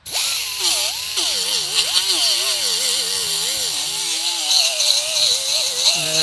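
Loud, continuous whine of a power tool grinding the diamond embossing off the edge of a steel welding plate, its pitch rising and sagging as the load changes, running steadily for the whole stretch with no talk.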